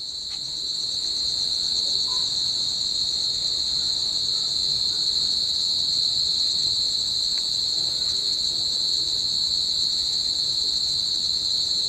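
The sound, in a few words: crickets chirping at night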